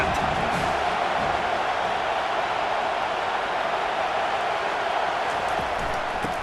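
A steady roar of a large stadium crowd cheering at a Michigan vs USC college football game, sustained and even throughout with no clear breaks.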